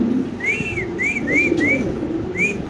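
Lakka and Beauty pigeons call in a run of five short, rising, whistle-like coos at close range over a steady background hum.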